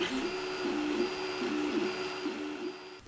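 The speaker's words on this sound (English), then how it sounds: "I love the sound of the squealing stepper motors on my 3D printer" 3D printer stepper motors squeal in repeated pitched whines that rise and fall in a steady rhythm over a constant mechanical drone, close by.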